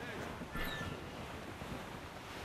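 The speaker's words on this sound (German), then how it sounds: "Das ist ein raues Lüftchen, Captain!" Rough wind and breaking waves on the open North Atlantic in Assassin's Creed Rogue, a broad, faint rushing roar with a brief gust and splash early on, steady and unbroken throughout.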